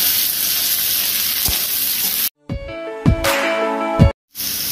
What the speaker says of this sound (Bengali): তেলটা গরম হয়ে গেছে, এতে আমি কালো জিরা ফোড়ন দিয়ে দিচ্ছি। দিয়ে আমি এর মধ্যে পেঁয়াজগুলি দিয়ে দিচ্ছি।